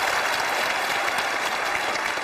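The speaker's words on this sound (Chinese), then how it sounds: "来掌声欢迎" Dense, steady applause fills a studio audience at a Chinese TV job-seeker show, a loud unbroken wash of many hands clapping at once.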